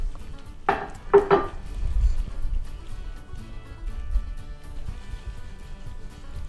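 A utensil clinks and scrapes against a bowl a few times in quick succession early on while ingredients are mixed, followed by softer low stirring and handling noises in a home kitchen.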